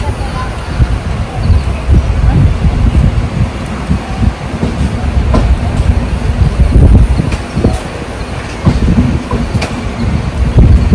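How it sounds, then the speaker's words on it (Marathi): A Konkan Railway train rumbles along the rails between Kankavli and Kudal with a low, steady roar and periodic clicking and clacking of the wheels, heard from on board. "मस्त चालली ट्रेन."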